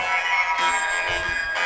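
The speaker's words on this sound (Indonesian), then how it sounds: "Ini ada suara alien." A short burst of synthetic, warbling voice processed with an eerie alien effect, metallic and high-pitched, heard alone and fairly quiet.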